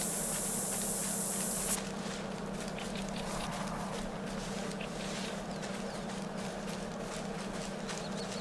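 Scent spray in theHunter: Call of the Wild gives a short, bright, steady hiss lasting under two seconds, then cuts off, leaving a quiet outdoor ambience with faint scattered rustles.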